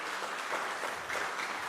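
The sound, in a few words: audience applause for symposium speaker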